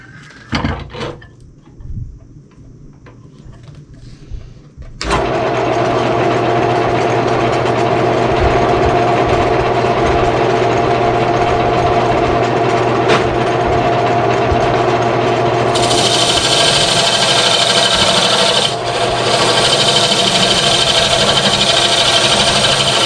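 Wood lathe spinning up around five seconds in and running steadily as a spalted maple blank has its faces squared off, a loud continuous motor drone with rubbing, scraping tool contact on the wood; quieter shop sounds precede it.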